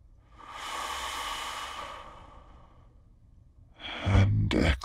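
A long, slow breath is drawn in and let out during a guided hypnosis session, heard as a soft airy rush close to the microphone, followed by louder rustling, with no talking.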